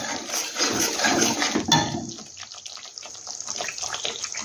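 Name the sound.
water being poured into the pot while cooking bottle gourd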